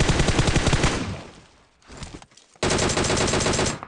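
M4 rifle fire in a battle royale video game: loud, rapid automatic bursts rattle continuously, fade briefly into a sparser, quieter stretch, then resume abruptly at full intensity.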